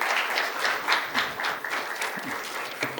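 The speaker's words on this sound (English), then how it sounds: "A big round of applause for Rajendra sir." An audience at an economics talk on hosting the Olympics in India bursts into dense, sustained applause, many hands clapping close and loud throughout.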